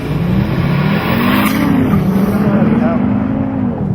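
A Volvo C30 Polestar hot hatch holds its revs on launch control and then pulls away hard, the engine note climbing and wavering, loud and close, with voices over the top.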